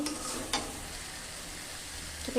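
Food being sautéed in a pan makes a faint, continuous sizzle with a couple of sharp spatula taps against the cookware near the start and end.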